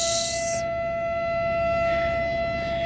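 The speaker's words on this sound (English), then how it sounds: "I never experienced a siren test or a fire call." Federal Signal Model 7A fire siren sounding a test in Plymouth Meeting, Pennsylvania, a steady sustained mechanical wail holding one pitch, heard from a distance over faint background hiss.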